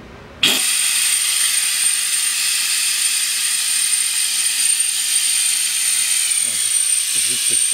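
A vacuum brake bleeder starts abruptly and runs as a loud, steady hiss and whine while the brake fluid is drawn from a 2009 Chevrolet Aveo, with a few faint clicks near the end.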